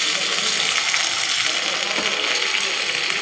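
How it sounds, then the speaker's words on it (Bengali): Marinated mutton hits a pan of fried onions with a loud, steady sizzle and hiss of frying that stays close and constant throughout. "এবার ম্যারিনেট করা মাংসটা দিয়ে দেবো।"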